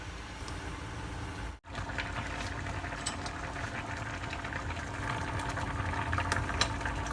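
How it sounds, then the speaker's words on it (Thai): Coconut meat boils in a pot with a steady, close, continuous bubbling hiss that stays even throughout, broken only by a brief dropout near the start. "เราให้มันเดือดสักพักเรากะว่า มะพร้าวสุกแล้วเนาะ"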